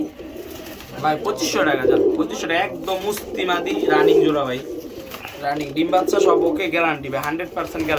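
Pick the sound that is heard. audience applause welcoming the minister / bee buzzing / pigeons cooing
pigeons cooing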